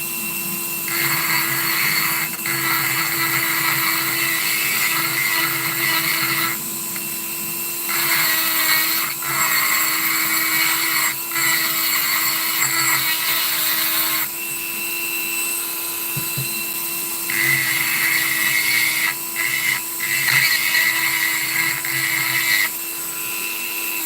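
A Dremel rotary tool grinds the sidewall of an e-bike hub motor in bursts of high whining abrasion lasting several seconds each, stopping and restarting repeatedly over a steady motor hum.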